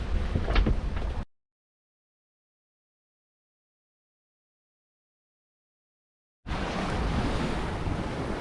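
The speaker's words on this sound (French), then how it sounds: "On a des belles vagues." Ocean waves wash around a sailboat at sea during a transatlantic crossing from Bermuda, with wind buffeting. A burst of steady rushing surf is followed by a gap of silence, then the surge returns just as loud.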